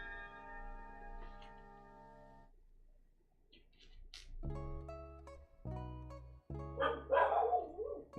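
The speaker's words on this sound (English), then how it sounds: "Big tough dog barking." A big, tough dog barks inside a house, a few deep bursts in the second half that rise over sustained ringing, bell-like tones heard from the start.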